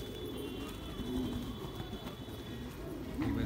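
Low, soft cooing of large-faced fancy pigeons of an old Rampur breed, a steady murmur of several birds close by, with faint rumbling background noise.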